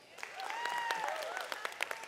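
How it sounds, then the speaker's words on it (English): A crowd at a county fair and rodeo livestock show claps for children showing broilers and turkeys, a short, fairly quiet burst of applause with scattered sharp claps and some overlapping voices. "One more round of applause for all these kids."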